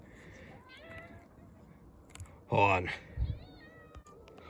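A dark-colored cat meows once, loud and close, followed by a shorter sound; a person speaks briefly, with quiet room noise throughout.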